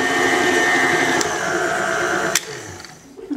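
A stand mixer churns gluten-free pastry dough of butter and shortening with a steady, loud whirring motor that cuts off abruptly near the end, leaving quiet room sound.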